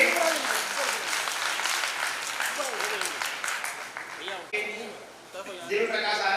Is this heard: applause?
yes